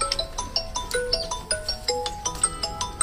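A phone rings on an outgoing call, a repeating electronic melodic ringtone with quick tonal notes in a steady pattern, close and clear with no talk.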